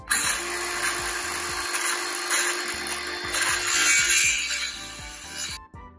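A power saw cuts plywood with its plastic safety guard taped back, a loud whining blade sound broken by repeated short bursts of cutting and brief pauses, close and alone with no speech.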